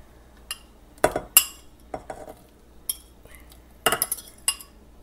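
Utensil scrapes and clinks against a bowl as sausage is folded into a macaroni cake batter, a few sharp metallic knocks scattered among softer stirring sounds, close and alone.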